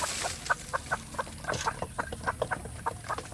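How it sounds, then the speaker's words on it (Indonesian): Village chickens (ayam kampung) being fed pellets cluck in a steady run of short, rhythmic calls, close by and moderately loud, with faint background noise. "ini siang ini ayam kampung saya beri makan pur ya sedulur"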